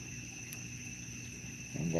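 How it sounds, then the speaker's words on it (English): Crickets trill steadily through a night-time outdoor walkabout, a continuous high, even chirring. A low rumble enters near the end. "Love the cricket noise."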